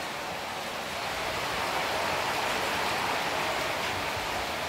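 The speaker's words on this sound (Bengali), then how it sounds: "খুব ভালো লাগছে, বৃষ্টি হচ্ছে তো জোরে" Heavy rain pours in a steady, dense hiss that holds at an even loudness throughout, with no voices over it.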